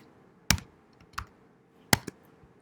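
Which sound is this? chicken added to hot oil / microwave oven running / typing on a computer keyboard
typing on a computer keyboard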